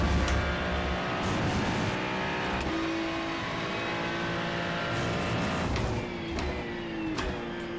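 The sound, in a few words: race cars driving in iRacing video game at Mugello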